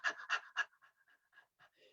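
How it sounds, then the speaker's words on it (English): Quick panting breaths during a breathing exercise: three strong, sharp huffs close to the mic, then a run of softer, quicker pants fading out. "You do 2 rounds of panting,"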